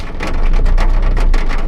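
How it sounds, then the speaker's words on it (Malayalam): Heavy rain drums steadily and loudly, a dense patter of drops on a hard surface swelling after a soft start, with a low rumble underneath and no voices. "ഇത് നല്ല മഴ ആയതുകൊണ്ട്"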